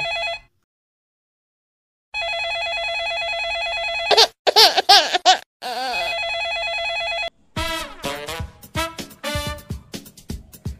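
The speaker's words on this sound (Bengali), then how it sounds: "আবার কে ফোন দিল?" A telephone rings in steady electronic bursts, loud and close, with a short silence near the start, then gives way to bursts of laughter and lively voices toward the end.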